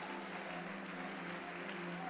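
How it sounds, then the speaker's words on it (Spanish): Church congregation applauding during a Spanish-language sermon, giving a steady, diffuse wash of clapping at moderate distance with a faint sustained tone beneath it. "Dale otro aplauso a Dios"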